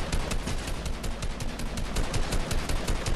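Gunfire in a Fortnite match, a dense, continuous burst of rapid shots and battle noise filling the whole stretch at steady loudness, with no talking.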